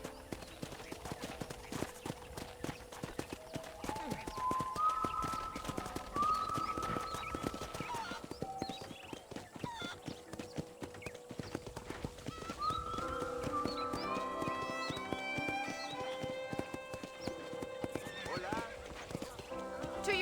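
Horse hooves clip-clop steadily at a walking pace while a horse neighs and whinnies a couple of times, with ambient sound beneath, in the video game Red Dead Redemption.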